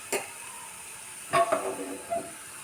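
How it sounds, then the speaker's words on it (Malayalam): Small onions and curry leaves hit hot coconut oil in a clay pan, giving a few brief sizzling bursts and soft stirring noises over a quiet steady hiss. "ഉള്ളി മൂപ്പിക്കാൻ വേണ്ടി ചീഞ്ചട്ടി അടുപ്പത്ത് വെച്ചു. അതിൽ വെളിച്ചെണ്ണ ഒഴിച്ചു കൊടുത്തിട്ടുണ്ട്."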